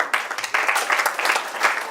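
Audience applause for a speaker named Talia at a national climate dialogue event: a brief, dense burst of clapping that starts abruptly and stays fairly steady, moderately loud and close for about two seconds.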